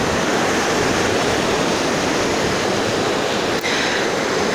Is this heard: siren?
no